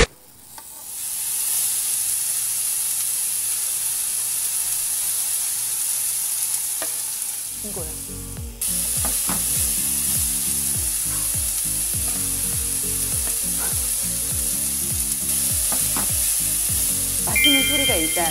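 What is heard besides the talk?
beef and cheese sizzling on a Zaigle electric grill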